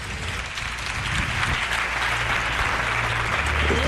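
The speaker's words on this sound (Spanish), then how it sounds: "Un aplauso para ellos." Audience at an evening talk on eclipse superstitions breaking into applause, a loud dense wall of clapping that holds steady for several seconds with a low murmur beneath.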